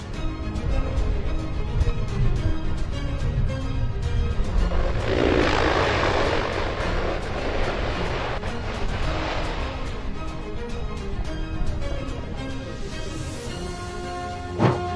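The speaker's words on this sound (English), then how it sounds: "this Fairchild C-123 nearly suffers a wingtip strike after landing in strong crosswind conditions" A Fairchild C-123 twin-engine transport lands in a strong crosswind at Eindhoven, Netherlands, its propeller engines droning loud and steady throughout, swelling with a roar midway and tapering slightly toward the end.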